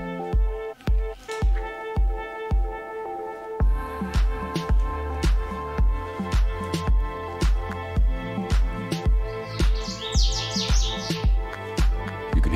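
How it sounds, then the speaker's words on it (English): Birds chirp and sing inside a Marrakech riad, with bright calls rising above repeated, rhythmic tapping sounds. There is a brief, thicker burst of twittering near the end. "You can hear the birds singing in here."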